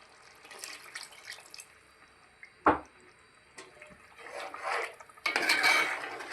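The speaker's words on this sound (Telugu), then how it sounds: "కొన్ని వాటర్ పోస్తే మనకి గ్రేవీ వస్తుంది" Water poured into half-cooked chicken curry to make gravy, a quiet trickle and splash with a sharp clink of a utensil midway, then a louder rushing pour near the end, alone without talk.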